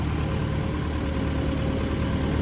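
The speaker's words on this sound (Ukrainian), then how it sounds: "Про стан цього комбайна, просто чутно як він працює. Тихо-тихо, просто дуже тихо." A Volvo 1110 combine harvester's engine runs quietly at a steady idle, a smooth, even low hum with a faint vibration and no talking.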